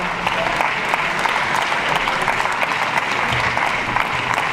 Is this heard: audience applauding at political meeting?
yes